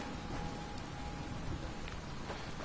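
Steady rain falls in Fallout 76, a constant even hiss with no talk, and a faint low rumble sits beneath the downpour.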